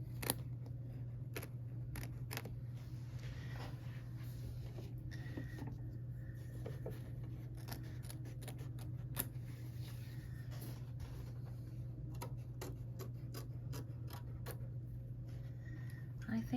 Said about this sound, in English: that's what I love about these snips